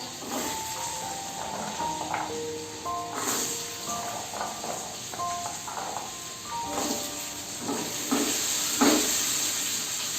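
Small potato pieces fry in hot oil with five-spice while making Bengali singara, giving a continuous crackling sizzle with bursts of spattering over faint melodic background tones.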